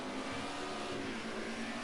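Classic BMW M3 race cars run flat out through the chicane at Silverstone, a continuous loud engine drone held at steady high revs for the brief moment.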